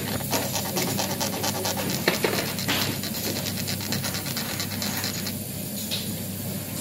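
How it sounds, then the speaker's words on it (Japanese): A round file sharpening a metal tool, such as a spring bar removal tool, in a repair workshop: a steady run of close, rasping back-and-forth strokes with no talk. "丸ヤスリを使い研いでいきます。"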